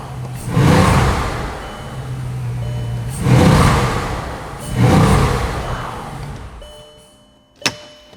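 Bugatti supercar engine revving in three strong surges of roughly a second or two each, loud and close, with a steady hum between bursts and a brief sharp click near the end.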